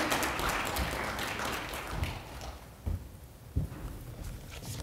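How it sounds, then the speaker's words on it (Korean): At a hospital's New Year blessing worship service, a congregation applauds as a pastor comes forward. The clapping is dense at first and then thins into scattered claps, faint and somewhat distant. "우리 목사님 나오실 때 박수로 맞이하겠습니다"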